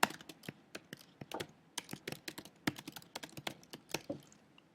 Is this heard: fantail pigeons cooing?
no